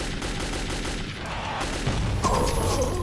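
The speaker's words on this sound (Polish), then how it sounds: "coś wybuchło w każdym razie" A loud explosion in the video game Metro 2033: a broad, rumbling blast with crackling debris and a sharper burst later, heard alone without talk.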